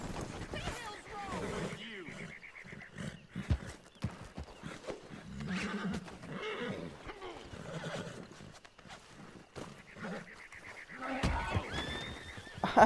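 A horse neighs and whinnies with hoofbeat clip-clop in the Red Dead Redemption 2 online game, mixed under a busy game soundtrack and someone talking over it.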